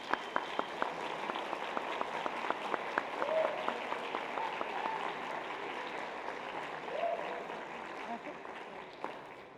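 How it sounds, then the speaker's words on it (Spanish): Audience applause at an academic lecture event, a steady wash of clapping at moderate distance with a few sharper claps early on and faint voices underneath. "Un aplauso."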